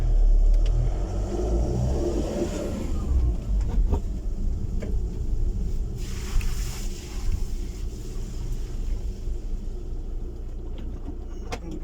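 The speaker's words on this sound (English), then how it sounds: "I'm just going to take the van for a drive." LDV Maxus van on the move, a steady rumbling road and engine drone with buffeting wind noise and occasional louder whooshes, close and continuous throughout.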